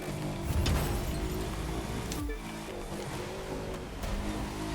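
A BMW M8 Competition Coupé in The Crew 2 revs hard against its limiter, the engine note buzzing loud and steady with brief dips as it bounces off the cutoff, heard close and without talk.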